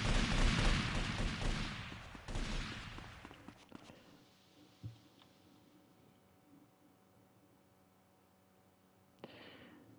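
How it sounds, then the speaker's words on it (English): Gunfire in Grand Theft Auto: Vice City, a dense loud burst of rapid shots over the first few seconds, then fading to quieter ambient game sound with a faint thump and a short sharp crack near the end. "Who's firing?"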